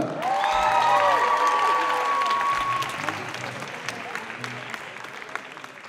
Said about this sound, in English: another round of applause for Olivia.